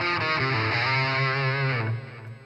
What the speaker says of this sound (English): now you hear the delay going through the cabinet